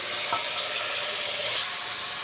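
A constant hissing sizzle of mutton frying in a pan, close and fairly even, with a brief clink early on.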